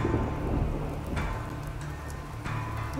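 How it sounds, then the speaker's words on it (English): Steady rain pours through a thunderstorm in Resident Evil 2, with low rumbling thunder and a couple of sharper cracks standing out above the continuous wash of falling water. "You'd sure use an umbrella in that rain."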